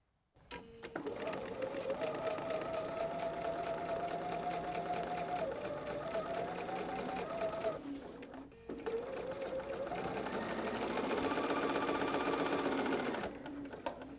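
A sewing machine runs steadily while stitching a seam on a log cabin quilt block, with a whirring motor hum in two long continuous bursts separated by a short pause, close and fairly loud, with no talking.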